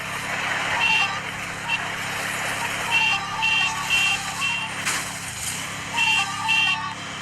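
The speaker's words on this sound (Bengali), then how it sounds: "দেখো গাইস, হর্ন মারতে মারতে যাই।" Repeated car horn honks sound in a video game, several short beeps in bursts over steady engine drone, with a brief lower sweep midway.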